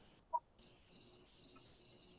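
Steady cricket chirping from a bedside sound machine, a continuous high-pitched trill playing alone at low volume, with one brief soft click near the start.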